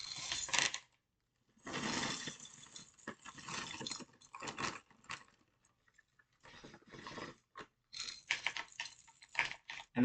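Chocolate chips poured into pumpkin bread batter, several bursts of dry clicking rattles separated by pauses, close and fairly quiet.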